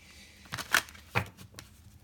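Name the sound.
shuffling a deck of cards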